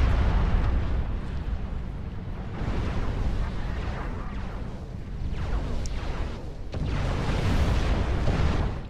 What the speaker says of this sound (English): That is a very large amount of artillery, Andros.